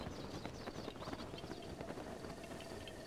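A horse gallops in a Zelda video game, its quick rhythmic hoofbeats faint and low in level against a soft background bed, with no talk over it.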